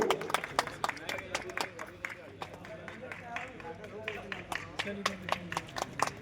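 Scattered clapping from an audience at a road safety event in an electric bus depot, irregular sharp claps sounding under someone speaking over a microphone.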